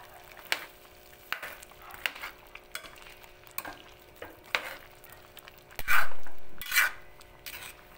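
Pork rib kaldereta stirred in a pot, with scraping utensil strokes against the metal over a soft background sizzle, close and fairly steady, with a louder scrape near the end.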